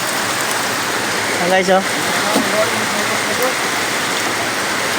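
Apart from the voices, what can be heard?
typhoon rain falling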